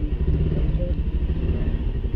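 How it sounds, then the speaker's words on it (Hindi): Motorcycles ride off from a hotel in Rajgir, Bihar, their engines a steady, loud low rumble that continues without pause. "ये एसके भाई जिया भाई की बाइक चला रहे हैं और जिया भाई मेरी बाइक चला रहे हैं"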